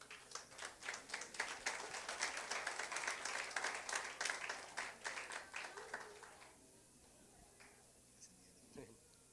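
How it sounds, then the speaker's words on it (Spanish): A church congregation applauds the pastor with brisk, fairly close clapping for about six seconds before it tapers off into quiet room sound, with a voice briefly audible near the end. "démosle un fuerte aplauso al pastor Eber Vargas."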